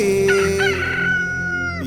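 A rooster crows once in a long, drawn-out call, loud and close, heard clearly on its own over a faint steady background hum, with no talk during the crow.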